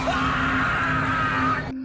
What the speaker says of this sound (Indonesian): Sontak pria itu menjerit kesakitan dan diminta untuk balik badan.